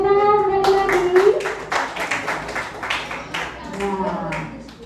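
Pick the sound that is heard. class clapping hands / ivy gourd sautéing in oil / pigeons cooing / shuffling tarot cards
class clapping hands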